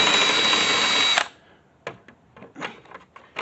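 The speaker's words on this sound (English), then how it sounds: "there's a couple Torx head screws here that you need to get out to get this light out" A power driver backs Torx head screws out of a Subaru light, whirring loudly for just over a second before cutting off, followed by a few faint clicks and handling noises.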